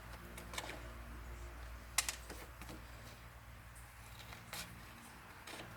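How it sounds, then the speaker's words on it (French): Paper or card squares for a lantern being cut by hand, heard as a few faint, scattered snips and clicks against a quiet room background. "Donc, je coupe les carrés."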